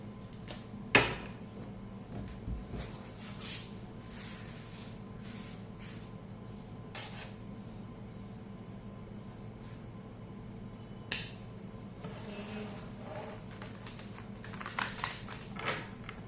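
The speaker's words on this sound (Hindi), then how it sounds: "कैंसेरियंस मैं और कार्ड्स निकालती हूँ।" Tarot cards drawn from a deck by hand, soft sporadic snaps, flicks and taps of card edges, one sharper slap early on and a cluster of light clicks near the end, quiet and close, with no talking.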